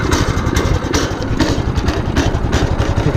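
Predator 212cc minibike engine running on choke, a loud close chugging idle with steady rapid pulsing and no pauses.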